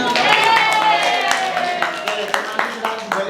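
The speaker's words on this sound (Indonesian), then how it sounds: "Dengan semua, tepuk tangan." Students clap for a classroom group, with scattered sharp claps heard under and between overlapping voices that dominate the clip.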